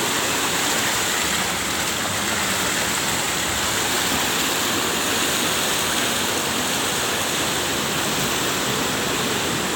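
Waterfall at Lubuk Hijau Ceracai in South Aceh roars with a constant, dense rush of falling water, steady and close with no voices over it.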